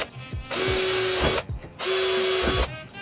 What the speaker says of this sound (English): Now I'm going to drill the rest.